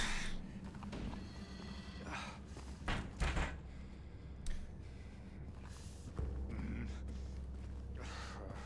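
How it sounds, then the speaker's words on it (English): Eerie horse whinnies and snorts from the Silent Hill 2 Remake game come in several separate bursts, mixed with dull thumps and a low droning background, fairly quiet overall. "I don't want them to play the horse sounds at me"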